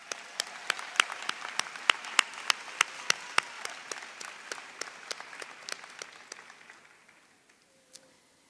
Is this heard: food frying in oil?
no